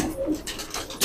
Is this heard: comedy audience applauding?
no